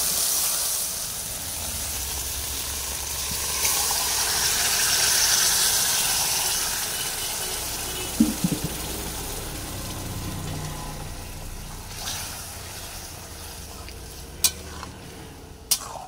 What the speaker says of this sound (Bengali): মশলাটা এখন হালকা করে নেড়ে চেড়ে নেবো